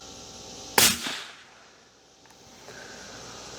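A single sharp, loud .204 Ruger rifle shot fired through a chronograph, followed by a brief echoing decay into quiet outdoor background.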